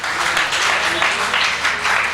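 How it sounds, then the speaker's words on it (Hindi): Audience applause at a Hindi kavi sammelan and trader honour ceremony in Hapur: steady, dense clapping from a crowd, sustained and fairly loud throughout. "इनके लिए एक बार जोरदार तालियां हो जाए।"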